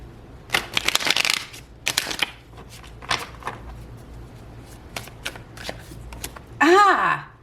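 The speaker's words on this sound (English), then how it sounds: "You just saw me shuffle." Rapid riffling bursts of shuffled tarot cards, several quick flurries spaced apart, with a soft voice between them and a brief higher sound near the end.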